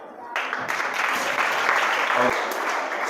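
A group of students clapping in a classroom, a steady burst of applause lasting a few seconds, close and dense.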